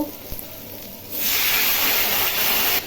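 A little water poured onto reddish fried spice masala, for a dish with brinjal and potatoes, sets off a sudden loud, close hiss of steam that roars steadily for over a second and then cuts off.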